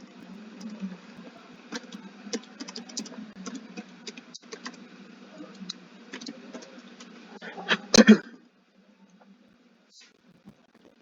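Someone types a username and password on a computer keyboard in a steady run of light, close key clicks, ending in a brief louder clatter of keys, then near silence.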